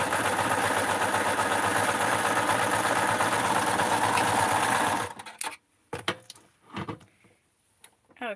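A sewing machine runs in one loud, steady, continuous stitching burst for about five seconds while making Blythe Skipper doll shorts and a blouse, then stops and gives way to a few quieter handling clicks and rustles.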